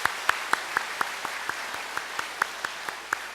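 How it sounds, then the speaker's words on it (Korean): A church congregation applauds together in a steady, dense wash of clapping with a regular rhythmic pulse of sharper claps on top, moderately loud and filling the room. "이분들을 축복하며 박수하겠습니다"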